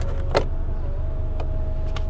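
An electric rear sunshade motor hums steadily inside a 2014 Honda Accord VTi-L cabin, a short close mechanical whir with faint clicks.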